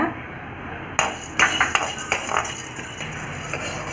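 Split roasted gram (chana) being dry-roasted in a pan for Andhra pappu podi, with light scraping and clinking of a metal spatula against the pan in short, uneven strokes, up close at moderate volume.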